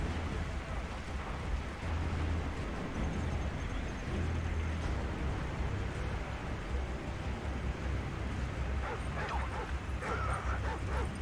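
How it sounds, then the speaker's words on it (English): In Call of Duty: Modern Warfare 3, a dog barks repeatedly and steadily over a dense bed of rain and ambient noise, with yips and whimpers mixed in throughout. "The dog's barking."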